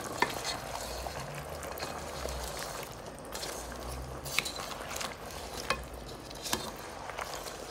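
Chicken adobo being stirred in a pan with sugar added, steady sizzling frying throughout with soft utensil scrapes and occasional clicks against the pan, close and moderately loud, no talking.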